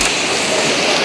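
A dense, steady hiss of rain, loud and close, with no pauses.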